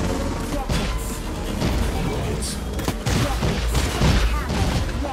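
In the anti-gravity racing game Wipeout, a rocket slams into a racer amid a dense barrage of explosive bangs and crashes over a loud engine roar, with dull booms spread across the clip.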